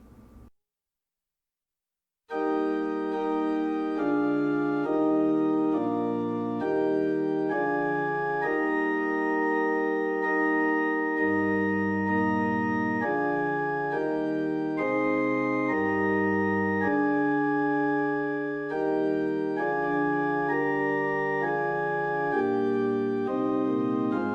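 Solo organ plays a slow progression of sustained chords, one altered chord changing to the next, steady and full after a short silent gap at the start, no voices.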